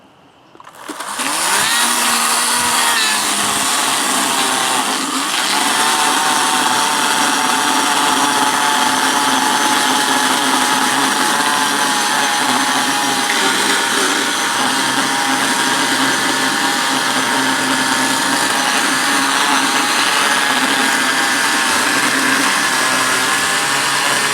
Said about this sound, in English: Now he's cutting some pieces off of it.